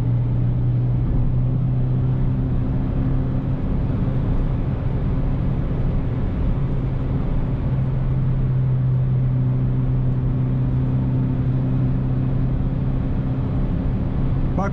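Renault Clio 3 with a 1.2 naturally aspirated engine and automatic gearbox, cruising at about 4000 rpm and 130 km/h on smooth asphalt, gives a steady, loud engine drone with road and wind noise throughout and no talk.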